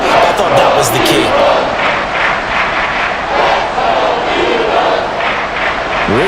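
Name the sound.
NFL stadium crowd cheering, Giants vs Eagles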